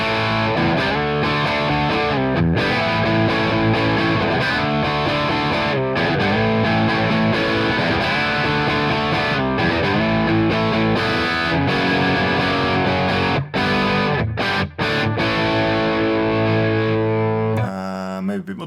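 Electric guitar played through a Mesa Boogie amp model in ToneX or AmpliTube, a dense, distorted, sustained tone with picked chords and riffs, loud and continuous throughout with brief breaks near the end.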